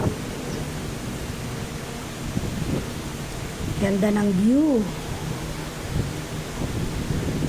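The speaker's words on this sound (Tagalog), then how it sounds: "ang hangin, nagugulo yung buhok ko." Steady, loud wind roars and buffets the microphone throughout on a high observation deck at Monte Maria Shrine's glass walk, while a person briefly speaks over it.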